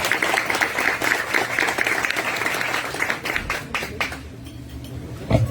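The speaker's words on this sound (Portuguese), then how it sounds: "com a salva de palmas de vocês" Audience at a debate on the film Marighella at Espaço 900 applauds as a speaker is introduced, a full, steady wash of clapping that thins and fades toward the end.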